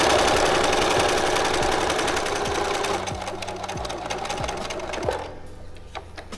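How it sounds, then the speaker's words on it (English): A sewing machine runs fast and loud as it stitches a quarter-inch seam on a four-square bag, then slows into a few separate stitch thumps and stops. "I'm going to back stitch to lock it."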